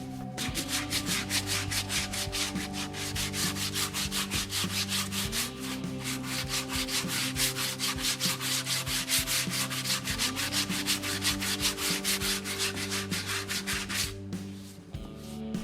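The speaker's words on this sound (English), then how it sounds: "let's go ahead and use the block sander to smooth out the back transition" A block sander works the back contour of a Telecaster-style guitar body, making close, steady, rhythmic rasping strokes on wood that continue without a break for the whole stretch, with no speech.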